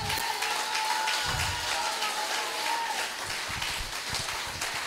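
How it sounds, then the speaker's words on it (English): A church congregation claps together in worship, producing steady, dense applause that fills the room for several seconds without any speech over it. "shall we give one more time a hand clap of worship?"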